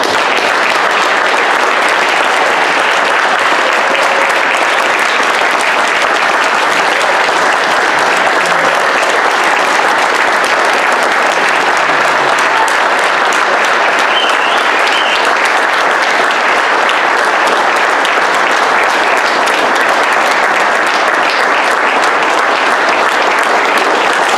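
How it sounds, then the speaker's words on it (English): Guests at a boys' varsity soccer team dinner applaud together. Loud, dense, sustained clapping from a large group holds steady for over twenty seconds without letting up. "I was hoping that we could all, as a group, one last time, applaud these guys for what they achieved"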